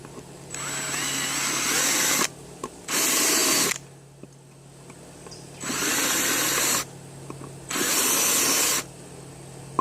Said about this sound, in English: I'm going to countersink it so it won't be a sharp edge.